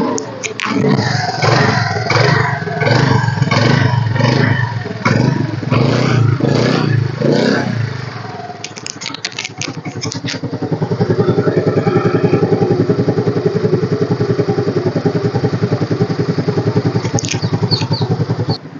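A 2014 Honda Activa scooter with self start is started and left idling, a loud close clattering engine that catches after an uneven opening, then settles into a steady, even idle hum.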